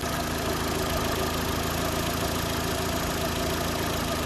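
A car engine idles under the open hood, close and continuous with an even mechanical hum and faint ticking, heard alone.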